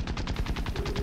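A rapid burst of aircraft machine gun fire in War Thunder, about a dozen evenly spaced loud shots in one second.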